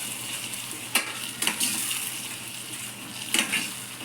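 Egg curry masala with coriander powder and curry masala powder is stirred in a pan over a soft sizzle, with a few sharp metallic spoon clinks and scrapes against the pan.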